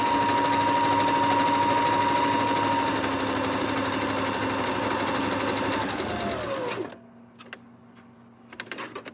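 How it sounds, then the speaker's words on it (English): A sewing machine stitches a pillow, running at a fast, steady whir for about six seconds before slowing and stopping, followed by a few faint clicks in near silence. "Every time you pivot, leave your needle down, turn the fabric, presser foot back down."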